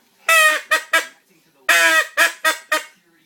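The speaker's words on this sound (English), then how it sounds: "this one, the Fox game call, that is the mallard, is supposed to be a mallard call" A Fox Game mallard duck call is blown in two rounds of quacks, each a long nasal honk followed by two shorter ones, loud and close with silence between.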